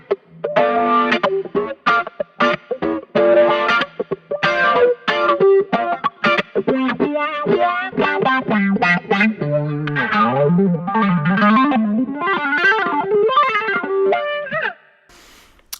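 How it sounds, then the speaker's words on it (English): Guitar played through a BOSS GX-100 multi-effects unit with a T-wah patch using amp modeling, a continuous run of distorted, sweeping wah-filtered notes and chords that ends abruptly near the close. "C1 is a cool T-wah effect."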